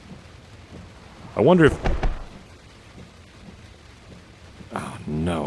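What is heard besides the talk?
heavy rain and thunder while driving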